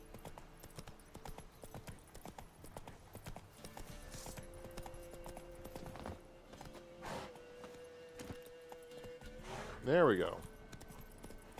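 Roach's hooves in The Witcher 3 clop in an irregular trotting rhythm, fairly quiet and close, with a few heavier thuds near the end and someone talking briefly over them.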